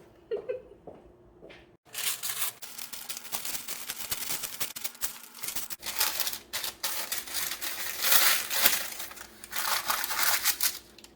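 Nutella cookie dough being cut, a dense run of crackly, crunchy cutting and tapping noises close up, starting abruptly after a brief quiet moment and continuing in bursts.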